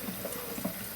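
Leftover juice from a Breville juicer is poured into a container, a brief, faint trickling splash lasting about a second.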